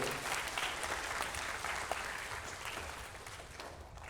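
At an arts festival closing ceremony, the crowd applauds performers for their courage with sustained clapping from many hands, loud at first and gradually easing off toward the end.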